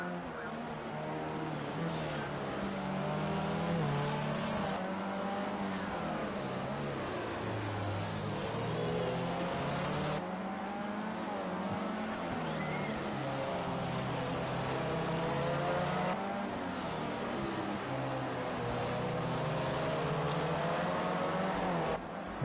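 Indy Lights race cars circling the Long Beach street circuit, a steady loud engine drone with rising and falling pitch as cars pass, continuous throughout with commentary-like voices over it.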